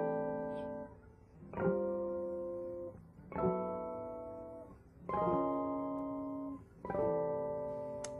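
Guitar chord shapes (C6/9 and major 7) are strummed one at a time, moving down in steps. Each of the five chords rings out and sustains before the next, played alone at moderate volume.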